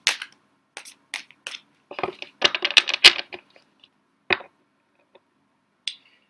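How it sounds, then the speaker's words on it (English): Tarot cards being handled and shuffled for a reading, a run of sharp papery snaps and riffling clicks close by. They come in irregular bursts with quiet gaps between them. "Let's get some cards out."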